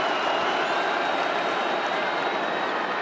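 Dense, steady roar of a college football stadium crowd at a night game between Syracuse and Liberty in 2021, cheering continuously and loudly with no break across the whole stretch.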